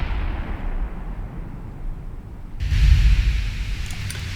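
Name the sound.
naval gunfire in video game Ultimate Admiral Dreadnoughts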